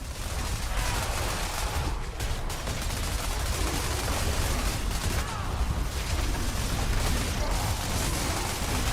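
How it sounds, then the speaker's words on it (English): Continuous dense bursts of explosions and combat effects from the Diablo 4 action game, loud and sustained throughout with no pauses. "We've got some explosions going here."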